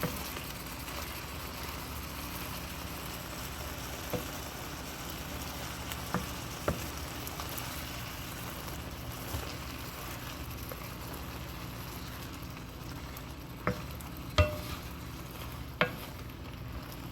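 Shrimp heating in a pan for yellow curry, giving a quiet, steady sizzle with occasional soft pops and clicks, heard alone without talk.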